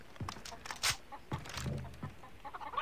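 Chickens cluck in the video game Far Cry 3, a few short clucks and squawks scattered over the stretch, fairly faint and set against game background noise.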